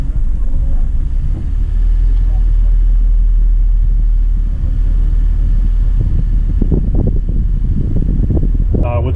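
A Jeep Grand Cherokee ZJ with a 4.0 engine and manual transmission pulling away in low range first gear in sand, a steady loud low engine drone and rumble close by, with someone talking over it.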